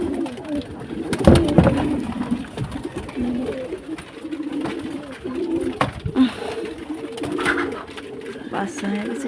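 Pigeons beside a nest of grown chicks give repeated low, throaty coos close by, rising and falling in short bursts over a fairly quiet background.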